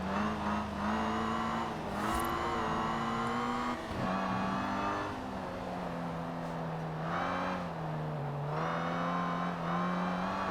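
A classic Citroen DS with race tires in Forza Horizon 4 sounds a steady, loud engine drone that rises and falls with throttle and gear changes, with brief tire scrubs in between.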